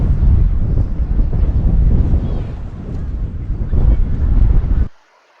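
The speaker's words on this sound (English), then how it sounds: "It's rough and windy here." Strong wind buffets the microphone on the rough, exposed shore of Blake Island, a loud continuous rumble with gusts rising and falling before cutting out suddenly.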